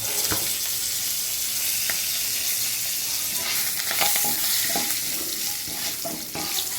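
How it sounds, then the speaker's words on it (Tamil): Mustard seeds crackle and splutter in hot oil with green chili and asafoetida, a steady bright frying sizzle broken by scattered sharp pops throughout, close and fairly loud. "கடுகு நல்லா வெடிக்குது"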